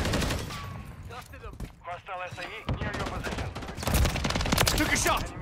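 Gunshots in the shooter video game DMZ, a few sharp cracks mixed with game effects while someone talks over them throughout.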